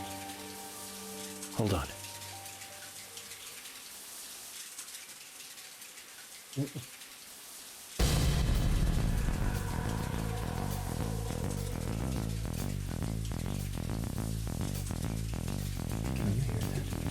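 A video game shower runs as a steady dense hiss of falling water, starting abruptly partway through after a quieter stretch with brief thumps and a short spoken phrase.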